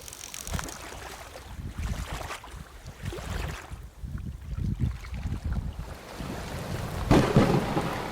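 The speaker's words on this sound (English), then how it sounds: "The high winds and heavy rain proved too much for our tent." Thunderstorm with high winds and heavy rain battering a campsite tent during a Jeep overland trip in New Zealand, a steady roar of wind and rain with gusty surges and a louder crack of thunder near the end.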